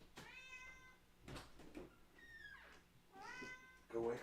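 A house cat meows close by in a quiet room, several drawn-out rising and falling calls spaced over a few seconds, with a faint knock or thump at one point.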